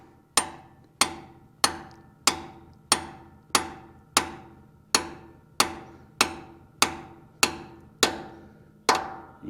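Steady metallic hammer blows drive an intermediate shaft bushing into a 1971 Dodge W100 Sweptline truck's 383 big-block Mopar engine, fifteen sharp, evenly spaced strikes ringing out close and loud with no talking.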